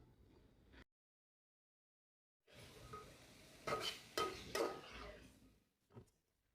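Chopped onions, green chilies and ginger are stirred in a hot pan, a faint sizzle with a few scraping spoon clinks against the metal after a brief silence.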